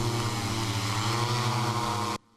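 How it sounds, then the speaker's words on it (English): A drone carrying dog-barking speakers for bear deterrence in Japan, its propellers giving a loud, steady buzzing hum close by that cuts off abruptly at the end. "this is the first time we've used drones for bear deterrence"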